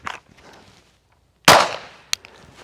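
A single loud, close gunshot at a training target rings out with a sharp crack and a brief decaying tail, followed by a fainter metallic click, with quiet gaps before it.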